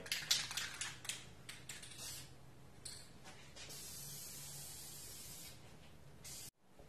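Aerosol clear coat hisses onto a smoked tinted tail light in a medium-wet pass, starting with a few short spurts, then a steady close spray for several seconds before cutting off abruptly.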